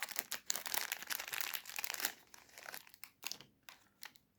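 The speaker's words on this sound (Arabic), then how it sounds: "نفتح خامس كيس" A plastic packet of Sela cake is torn open with a run of crinkling, crackling rustles that are dense at first and then thin into a few separate crunches, close and fairly quiet, with no talking.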